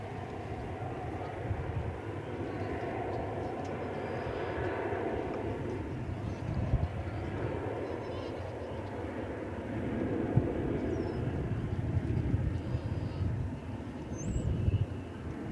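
An American airliner bound for Sacramento rolls slowly along a runway at DFW Airport, a steady low engine rumble and broadband roar holding throughout, with a faint voice audible underneath at times.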